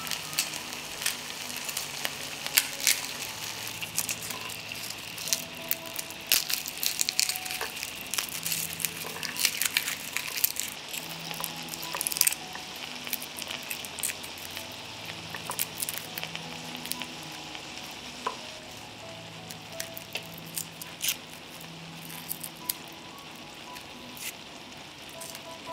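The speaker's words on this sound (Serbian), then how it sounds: "Dok se tikvice prže" Sliced zucchini sizzling and crackling in a hot frying pan, a steady close hiss with dense pops and occasional clinks, continuing evenly throughout.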